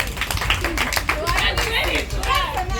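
Children at a school festival clap for a pupil, a burst of uneven handclaps mixed with chatter and excited voices, close and lively throughout.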